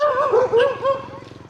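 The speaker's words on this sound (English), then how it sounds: "We are in an area where there are too many dogs." A dog in a street area with many dogs gives short yipping, whimpering barks in a quick burst, close and fairly loud, with no talk.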